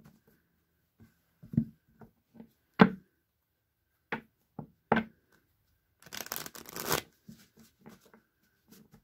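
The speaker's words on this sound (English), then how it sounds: "It's a big deck, so it takes a minute to shuffle." A large deck of playing cards is shuffled: scattered soft riffles and taps, then a dense, loud burst of rapid ruffling near the end, close by with no talking.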